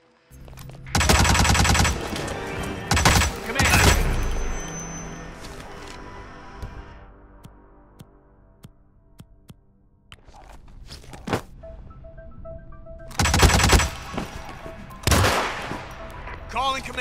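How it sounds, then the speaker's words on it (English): Loud bursts of gunfire in rapid clusters, with a long echoing tail and quieter scattered sounds between volleys. "I have gunshots"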